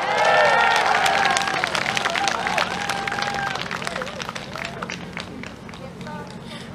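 An outdoor festival crowd claps and cheers for a trot singer on stage, a dense wash of applause and voices that thins out gradually as someone speaks over it.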